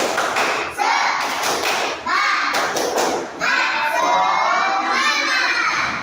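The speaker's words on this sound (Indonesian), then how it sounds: "Ayo, tepuk semangat." A class of schoolchildren in an Indonesian lesson performs a spirit clap chant, with loud group claps and thumps in rhythmic bursts under excited shouting and cheering voices, close and energetic throughout.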